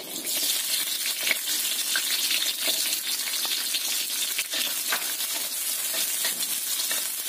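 Continuous crackling sizzle of spice paste for tofu satay frying in hot oil, with scattered pops and a steady hiss throughout, close by.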